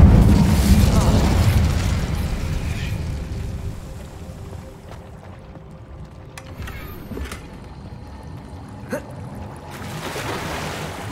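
A fire spell bursts out in the Hogwarts Legacy video game: a loud, deep whooshing roar at the start that rumbles and slowly fades into quieter ambience, with a few faint pops later on.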